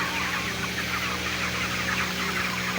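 Broiler chickens packed in a hot farm shed make a steady, dense wash of clucking and murmuring, a continuous flock noise with a low mechanical hum underneath and no voices.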